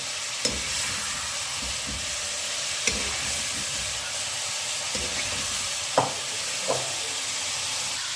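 Chicken meat frying in oil for achari gosht gives off a continuous, even sizzle, broken by a few sharp scrapes and taps from stirring.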